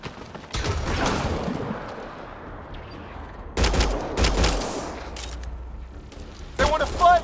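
Sharp bursts of gunfire ring out in a Mass Effect Andromeda firefight, with several separate volleys of rapid shots spaced through the clip. The shots are loud and punchy against quieter background ambience, and a voice briefly speaks between them.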